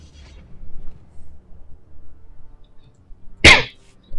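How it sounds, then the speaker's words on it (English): A single sharp sneeze bursts out loudly near the end after a stretch of quiet low rumble, brief and close to the microphone. "you'll have to pardon my occasional coughing and sneezing"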